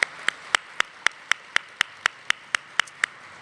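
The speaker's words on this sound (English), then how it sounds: "So please give all of our lead sponsors a big round of applause for their dedication" At a closing celebration party, sharp claps ring out at an even, steady pace, roughly four per second, each distinct and isolated against a quiet background, with no talking.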